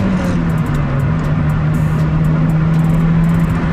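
Mazdaspeed NB Miata pulls away from a standstill, its engine drone rising steadily, loud and close inside the car, with road rumble throughout.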